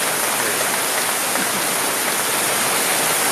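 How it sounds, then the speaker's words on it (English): Dense, steady rain sound effect hiss fills the whole stretch, an even wash of falling drops with no voices. "I accidentally hit the rain button"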